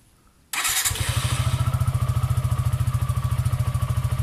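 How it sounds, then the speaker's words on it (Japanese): A 2018 Suzuki Gixxer 150SF motorcycle engine, freshly given an oil change, starts after a short quiet moment and settles into a steady, close, rhythmic idle with an even pulsing throb. "エンジンかけてみ"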